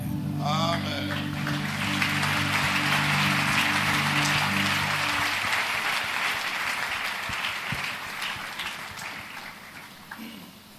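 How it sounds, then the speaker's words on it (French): An audience at a church event applauds in a sustained, even round of clapping, with an organ chord held beneath at first and the clapping slowly easing off. "Alors, les applaudissements,"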